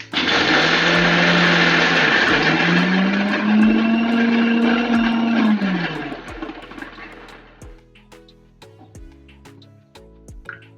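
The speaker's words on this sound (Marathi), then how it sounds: "सर्व साहित्य मिक्सरच्या भांड्यामध्ये घेतलं आहे हे आपल्याला आता दळून घ्यायचं आहे" A mixer grinder whirs loudly grinding horse gram and other ingredients for flour, its motor pitch rising and dipping, then winds down into rattling and clinking as it stops.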